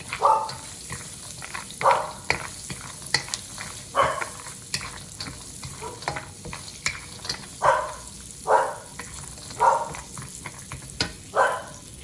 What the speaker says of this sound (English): that's my dog here